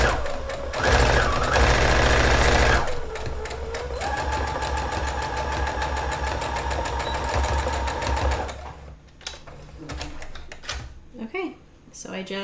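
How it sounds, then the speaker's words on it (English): An old Brother PE800 embroidery machine stitching fabric, a loud, close, rapid mechanical whirring and clatter that runs steadily for several seconds, then stops and gives way to quieter handling clicks. "Okay, sorry if this is loud. My machine is super old."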